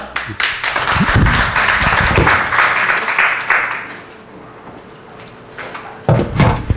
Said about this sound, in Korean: 박수로 안녕합시다.